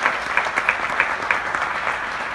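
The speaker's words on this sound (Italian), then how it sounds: "Farei un applauso al comitato." An audience applauds the committee behind a centenary book on Musazzi, with steady clapping and a few sharper claps standing out, fairly loud and with no talk over it.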